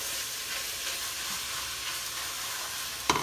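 Meat browns and sizzles in a hot pan for stuffed bell peppers, a steady close hiss of frying fat throughout, ending with a sharp clatter.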